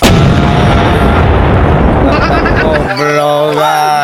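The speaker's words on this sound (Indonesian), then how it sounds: "Siap, saya lemparkan granat." A grenade blast in a video game roars loud and close for almost three seconds, then gives way abruptly to a voice.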